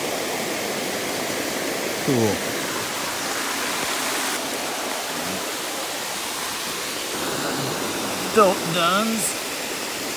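A waterfall pours beside a rocky stream, a steady broad rushing roar that fills the whole scene while people speak briefly over it a couple of times.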